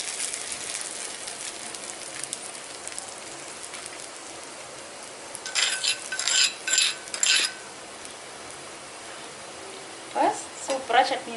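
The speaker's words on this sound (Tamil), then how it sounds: "இந்த சூட்லேயே கருவேப்பிலை நல்லா பொரிஞ்சிடும்" A tempering of curry leaves fried in a hot iron ladle is poured onto coconut chutney, with a low crackling hiss throughout and louder sizzling bursts in the middle and near the end.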